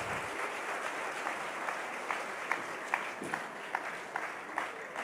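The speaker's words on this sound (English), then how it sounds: "I need louder applause." Conference audience applause in a large hall, a broad wash of clapping with a few sharper individual claps standing out in a loose rhythm, steady in level throughout.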